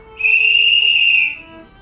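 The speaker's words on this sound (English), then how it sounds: "I thought I heard a whistle, like Dad used to whistle assembly call." A single sustained human whistle of an assembly call, one clear held tone lasting about a second, close and loud against quiet surroundings.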